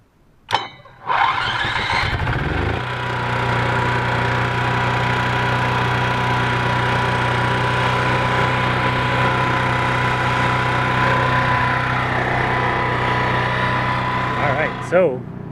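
Generator cranking and catching, then settling into a steady, loud, continuous mid-pitched engine drone that runs to the end, with a few clicks and handling noises at the start and finish.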